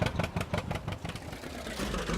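A tractor engine idles in Farming Simulator 19 with a steady low mechanical rumble and a faint rhythmic chug. It sits close and fairly quiet, with no talking over it.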